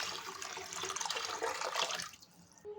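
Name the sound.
pouring broth into lentil dal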